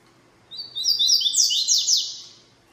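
A young coleiro seedeater songbird, a tournament-style bird, sings a bright, high-pitched burst of rapid chirps and trills. The song lasts about two seconds, sounds close and clear over a quiet background, and no voices are heard.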